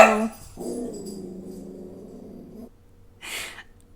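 A dog close by gives a sharp snort, then a drawn-out nasal whine and breathy exhale, and a final short snuffle.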